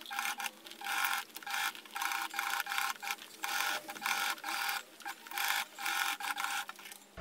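A sewing machine top stitches the seam allowance of a handbag, running in quick bursts separated by short pauses, close and steady with a whirring, rattling rhythm and no talking.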